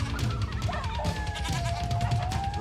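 Goats bleat in drawn-out, wavering cries that blend into the ringing, loud final chords of a heavy metal song, with no talk.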